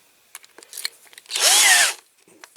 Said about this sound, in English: So I put a slightly smaller drill bit for those.